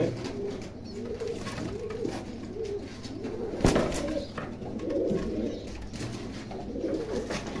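Pakistani pigeons in a breeder's loft coo steadily in overlapping, throaty rolls from several birds, close and moderately loud, with one brief sharp knock partway through.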